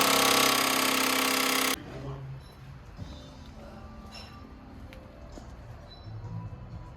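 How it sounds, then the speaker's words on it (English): A loud, rattling mechanical burst of an impact wrench for a couple of seconds, then faint workshop clatter and distant thuds, in a diesel mechanics' workshop. "excuse the impact noise over here from the Cummins mechanics over there"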